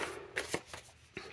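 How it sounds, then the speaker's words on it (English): A paper trimmer slices a piece of paper during papercraft work, giving a few short, crisp cutting and sliding strokes close up, with no talk. "line that up on our paper trimmer, and then we're going to cut that piece off"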